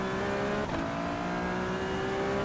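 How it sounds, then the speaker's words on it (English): 700-horsepower race car in the iRacing video game accelerating out of the pit box, a steady, droning engine tone heard from on board, quite faint, with no one talking. "The acceleration coming out the pit box there."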